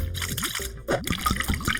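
Water pours into a cup of paint to make a half-paint, half-water mixture for a children's craft, a short burst of bright trickling and gurgling with small drips, close and clear.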